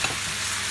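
Spoon stirring Cajun spices into a pan of roasted pepper and tomato soup, a brief close scrape and soft sizzle lasting under a second.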